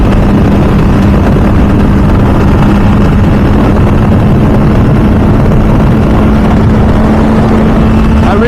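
An MV Agusta F4 Senna motorcycle is heard while riding, its engine a loud, sustained drone held at a steady pitch throughout, with heavy wind rush blended over it.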